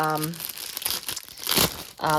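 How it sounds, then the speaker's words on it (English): A vinyl sheet from a Kimberbell sewing kit crinkles and crackles up close in short bursts, with a voice speaking just before and after. "This is the piece of vinyl."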